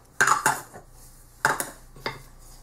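Coconut flour, almond flour, stevia, baking powder and salt are stirred together in a bowl for low-carb bagel dough, with a few sharp utensil clinks against the dish spaced through the stir.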